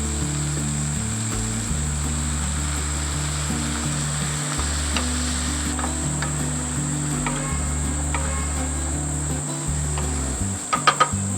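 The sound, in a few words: chopped okra simmering in a pan with a little water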